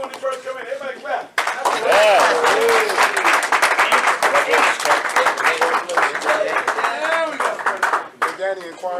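A boxing crowd claps along at an in-ring face-off after a fight, with sharp, rapid, close-up claps bursting out and running several seconds under shouted talk.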